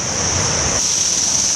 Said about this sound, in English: for now let's explore this waterfall